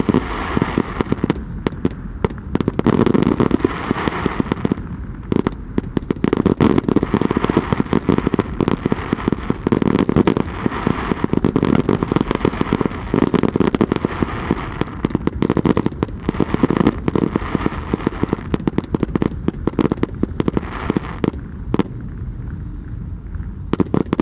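The Burning Man effigy burns at the 2023 event with dense crackling fireworks, a fast irregular barrage of pops and bangs over a roaring background that lasts throughout, loud and without talk.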